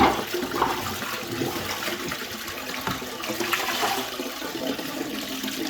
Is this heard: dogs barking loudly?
no